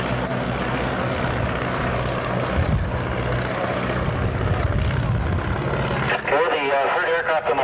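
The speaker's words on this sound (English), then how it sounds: "Flyby at this time." A Citabria light aircraft makes a flyby at a 1982 fly-in in Stanley, its engine droning steadily and loudly throughout while an announcer speaks over it.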